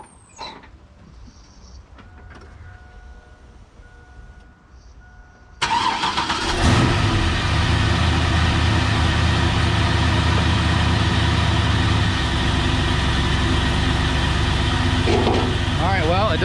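An LQ4-swapped Chevrolet Silverado with a new 3000 stall converter cranks and fires up partway through, then settles into a loud, steady, close idle that runs to the end after a quiet lead-in.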